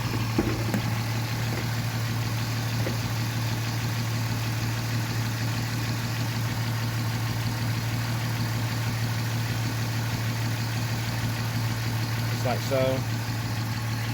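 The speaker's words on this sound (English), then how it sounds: "Alright, so get the car idling, get it to consume this coolant." A VW Mk4 Bora/Jetta VR6 engine idles steadily throughout, a constant low hum close to the microphone, with a brief voice speaking near the start and a couple of faint clinks near the end.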